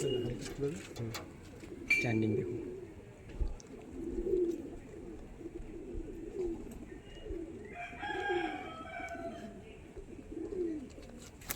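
Pigeons kept in a loft coo repeatedly in low rolling bursts, with a brief sharper call near the start and a cluster of higher calls later, as someone speaks at intervals.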